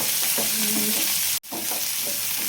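Curry leaves fry in hot oil with onions, a steady close sizzle and crackle running throughout, briefly cut by a short gap midway before resuming.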